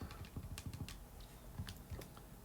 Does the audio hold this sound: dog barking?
no